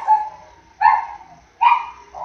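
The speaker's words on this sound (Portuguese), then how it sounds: "tem uns cachorros do lado aqui que estão doida gritando" Neighbouring dogs barking in three loud, spaced bursts, each a short cluster of yips, heard indoors with no one talking.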